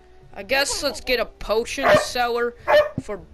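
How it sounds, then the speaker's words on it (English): A pet dog barks and yips in short bursts at home while a person talks over a video game, the barks mixed in under the speech. "Sorry for my dog barking."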